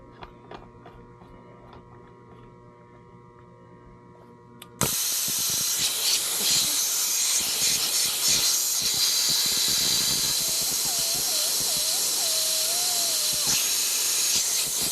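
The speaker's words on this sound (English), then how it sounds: "there's a huge leak from the bolt" A Planet Eclipse CS2 paintball marker leaking gas from its bolt: after a quiet ticking lead-in, a sudden loud, steady hiss starts and continues unbroken at close range.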